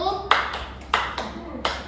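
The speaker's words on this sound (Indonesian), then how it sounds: "Jadi ibu ada tepuk tangan nih, tepuk namanya tepuk huha" In a classroom game called tepuk huha, hands clap in a rhythmic pattern: three sharp, distinct claps spaced evenly, each ringing briefly, with a voice speaking between them.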